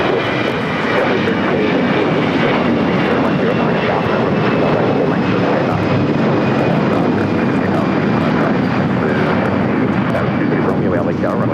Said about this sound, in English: So we have another Air Canada, this time an A320 heading to Vancouver, Flight 555